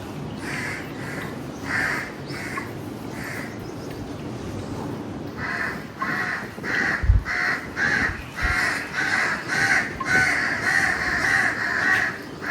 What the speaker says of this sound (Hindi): कौवे देखो कैसे बोल रहे हैं।